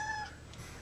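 A house cat lets out a single short, faint meow that stops quickly and leaves only quiet room tone.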